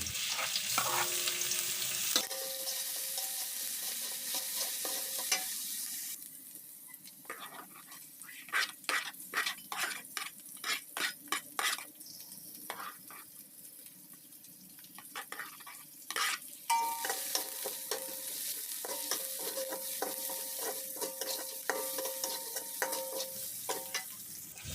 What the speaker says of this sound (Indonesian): Bumbu-bumbu tersebut kita tumis hingga harum ya guys.